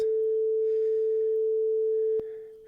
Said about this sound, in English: test sine wave source, which just generates a sine wave at a given frequency